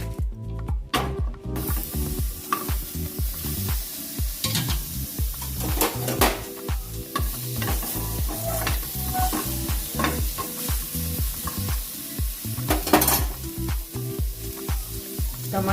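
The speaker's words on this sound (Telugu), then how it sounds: "ఆయిల్ లేకుండా ఫ్రై చేసుకుంటున్నాను చూడండి." Brinjal dry-fried without oil in a pan for a stuffed brinjal curry, a steady loud sizzle under rhythmic, repeated stirring scrapes from a spatula, close and continuous with no talking.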